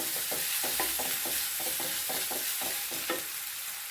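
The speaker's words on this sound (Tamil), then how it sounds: "சீக்கிரம் வதக்கிடும்" Potato pieces for potato masala stirred and sautéed in a hot oiled pan, a steady sizzle broken by regular scraping strokes of the spoon, close and fairly loud with no voices.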